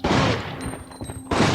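Two heavy booming shots from the 45 Auto handgun hitting a zombie in Resident Evil Outbreak, close and loud, with a brief pause and a faint high tone between them.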